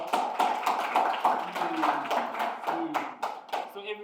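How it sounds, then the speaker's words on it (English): A classroom breaks into brief applause, hands clapping in an uneven patter for a few seconds with faint voices mixed in. "Give him a round of applause."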